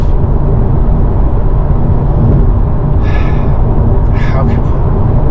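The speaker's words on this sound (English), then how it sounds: "the Hankooks on this car are insanely loud" Loud, constant low road roar from Hankook tyres heard inside a diesel car while driving, a dense steady rumble with a brief breathy sound partway through.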